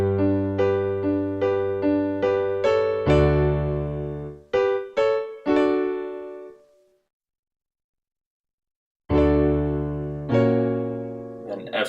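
Piano playing a chord progression: a run of repeated rhythmic chords, then sustained ringing chords, a pause of near silence, and the pattern resuming, played alone and clearly.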